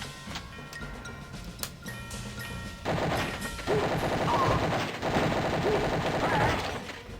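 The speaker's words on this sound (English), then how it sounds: "this gun is great, but it burns through ammo really fast" A machine gun firing in Wolfenstein 3D, a dense continuous rattle of rapid shots mixed with game sounds and music, growing louder partway through and sustained to the end.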